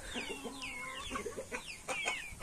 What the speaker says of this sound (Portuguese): Tem o meu galo, o galo combatente ali, ó.